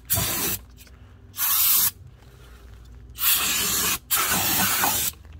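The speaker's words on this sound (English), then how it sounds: "I'm gonna hit it one more time with some brake parts cleaner" Brake parts cleaner hisses from an aerosol can during transmission pan work on a Dodge Nitro 3.7L, in four sharp bursts of about half a second to one second each, with short quiet pauses between them, close and loud, with no talk.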